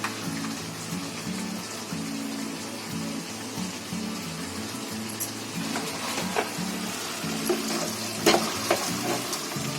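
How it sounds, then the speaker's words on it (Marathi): Chicken with spices is stirred in a frying pan, soft sizzling under a low background hum with a few scraping clicks near the end, fairly quiet. "हे सारखं चिकन कसं ढवळत राहायचं आहे"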